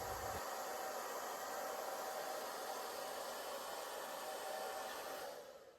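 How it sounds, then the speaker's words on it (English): A hair dryer blows in a steady, loud whoosh while grooming a long-haired dog, holding constant, then dropping off near the end. "Something that I found very useful when using a hair dryer is you hold it underneath your chin"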